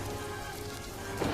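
Heavy rain pours down steadily in a dense, even hiss, close and continuous with no other sounds.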